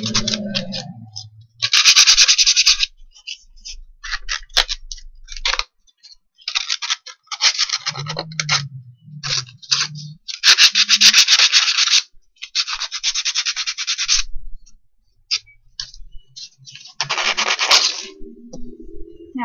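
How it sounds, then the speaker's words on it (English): Sandpaper scrapes in short, rasping bursts as a plastic helmet visor piece has its edges smoothed, the strokes close and intermittent with pauses between them and a few low knocks in the gaps. "grit sandpaper and you just smooth them all down so that you don't have any rough edges when you put this piece on the helmet"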